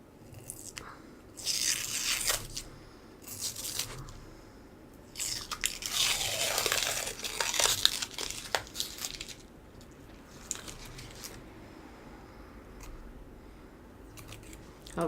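Protective film is peeled off an acrylic sheet in crackly, tearing bursts, with a longer rip in the middle and quieter stretches between pulls.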